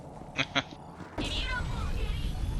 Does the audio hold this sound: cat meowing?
yes